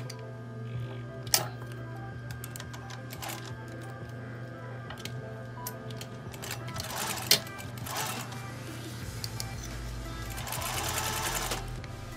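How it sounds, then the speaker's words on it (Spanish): A sewing machine with a standard presser foot stitches the side seams of an A-line skirt, a steady close mechanical whir with fine rapid ticking, a few louder clicks, and a brief pause in the middle. "Para empezar a unir los costados vamos a utilizar el pie prensatelas normal."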